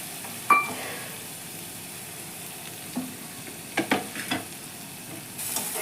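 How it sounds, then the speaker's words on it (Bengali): Spice paste with ginger frying in a pan for an egg korma, a faint steady sizzle broken by a few sharp stirring scrapes and clinks, with no talking. "দিয়ে মশলাটাকে এখন যতক্ষণের কাঁচা গন্ধ না যায় ততক্ষণ আমাকে একটু ভেজে নিতে হবে।"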